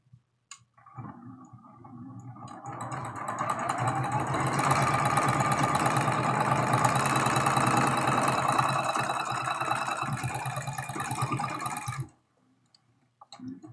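A sewing machine stitches quilt block pieces for a tulip quilt, starting up after a click and running in a fast, even mechanical whir for about eleven seconds before stopping abruptly.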